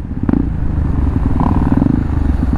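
A KTM Duke 390 motorcycle rides with a loud, close engine drone and a rattly clatter over it, steady throughout.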